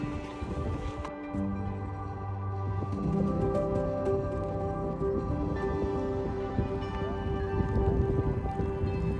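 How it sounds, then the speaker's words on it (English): Heavy rain falls steadily on a trekker in the Alps, a dense, even patter drumming on surfaces close by that holds at a constant level without a break. "it's pissing rain"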